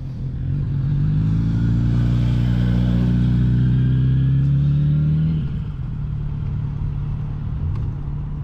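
A 2023 Kawasaki Z900RS Café motorcycle rolls along slowly with a steady, close engine drone. The pitch climbs gradually, then drops abruptly as it shifts into second gear and settles into a lower idle-like rumble.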